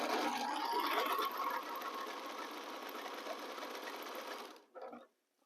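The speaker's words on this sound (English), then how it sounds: "Turn around and sew on the other side." A sewing machine stitches quilt blocks in one fast, continuous whirring run that stops abruptly, followed by a short quieter burst of stitching.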